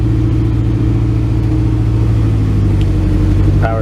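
A 1967 Ford Galaxie engine runs loud and close under a held throttle, a steady, even rumble that keeps going with no let-up.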